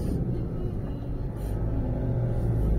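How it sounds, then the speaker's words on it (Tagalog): A Victory Liner bus passes on a provincial road in Iba, Zambales, its engine a steady low rumble and whir that stays loud and close for the whole stretch. "Dito dumadaan ng Victory Liner."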